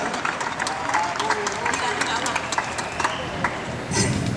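Crowd applause and cheering at an outdoor Catalan motorcycle rally event, dense clapping with scattered sharp claps and calls, a speaking voice over it and a louder burst near the end.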